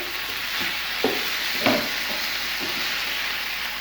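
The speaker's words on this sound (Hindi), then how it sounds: "और इसको हम फ्राई करेंगे तकरीबन 2 मिनट के लिए" Chicken pieces frying with spices in a hot pan, steady sizzling hiss with occasional stirring scrapes and clinks close by.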